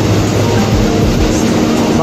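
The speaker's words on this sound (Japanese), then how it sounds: "乗ってた列車も出発しましたね" A JR commuter train pulls away from a platform at Shinjuku station, its steady low rumble and wheel clatter filling the space close by, with station voices faintly mixed in.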